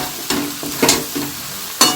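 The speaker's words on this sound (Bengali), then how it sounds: "ঢেলে দিয়ে এবার আমি একটু কষাতে থাকবো" Fried vegetables for navratan korma are sautéed in a pan, with a soft continuous sizzle broken by a few sharp scraping stirs of the spoon, close and moderately loud.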